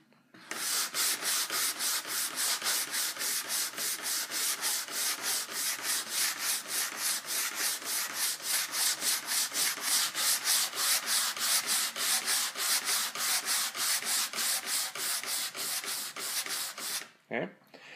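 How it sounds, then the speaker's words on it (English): A sponge sander rubs along the grain of an old wooden dresser in fast, even back-and-forth strokes, a steady rasping scrape repeated dozens of times up close, with no talking over it. "Make sure you sand with the grain, not against, or you're going to have a lot of scratches you can't account for later."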